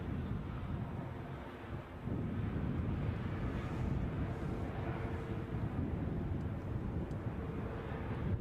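A KLM airliner taxis briskly at Edinburgh airport during a storm with strong crosswinds, heard as a steady, broad low rumble of jet engines mixed with gusty wind buffeting the microphone; there is no talking.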